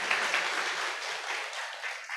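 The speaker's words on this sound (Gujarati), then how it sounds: "એક વખત ફરીથી તાળીઓથી એમને વધાવીએ." An audience at a Brahmakumaris business programme applauding: a steady wash of many hands clapping together, moderately loud, with no voices over it.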